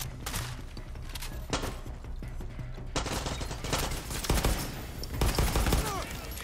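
Gunfire in the video game Far Cry 6 crackles in several rapid bursts and volleys, moderately quiet at first and growing denser and heavier toward the end.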